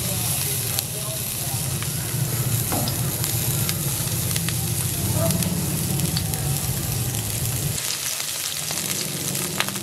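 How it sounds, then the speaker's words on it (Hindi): Chopped garlic shallow frying in about five tablespoons of oil for a Thai omelette, a steady loud sizzle with occasional stirring, dropping quieter near the end. "लहसुन को मैंने शैलो फ्राई कर लिया।"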